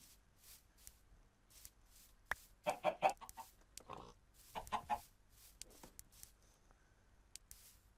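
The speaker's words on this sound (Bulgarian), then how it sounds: "Аз дойдох за кокошки. Ето, кокошки." Chickens in Minecraft cluck in short bursts, a few loud clusters among quieter scattered clucks and rustling, no talking.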